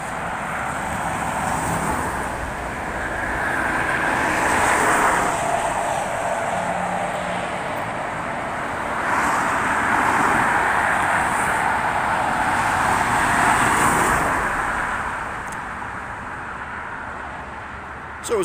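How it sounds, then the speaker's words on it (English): Road traffic on the A180 near Grimsby: a continuous roar of vehicles swells and fades as they pass, heard from close by with no talking. "you just have a listen to the traffic noise"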